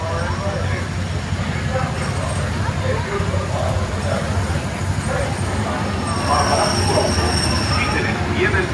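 A Disneyland Railroad train rolls past at a theme park with a steady loud rumble of wheels and occasional metallic squeal, surrounded by crowd chatter and background noise.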